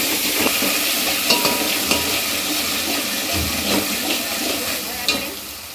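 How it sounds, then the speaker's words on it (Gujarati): Onions, tomatoes and chillies stirred together in a pan with hing and paste for a pasta dish, giving a close, steady sizzle with soft scraping and stirring strokes layered on top. "હવે આપણે ડુંગળી, ટમેટા અને મરચાં આપણે ત્રણેય મિક્સ નાખીશું. સારી રીતે મિક્સ કરી લઈશું."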